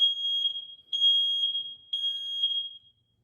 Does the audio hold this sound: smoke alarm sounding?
yes